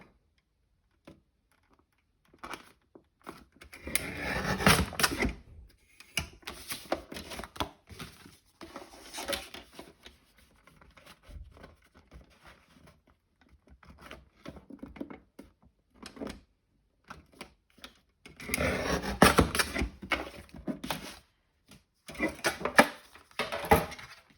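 Scored card being chopped and trimmed during card making, repeated crisp cutting and tapping clicks in bursts with quiet pauses between, close and fairly loud.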